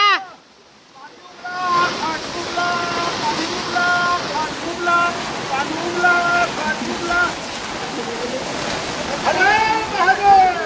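Sudden floodwater rushes through the village of Morigaon as a loud, continuous roar of flowing water, with people shouting and talking over it close by.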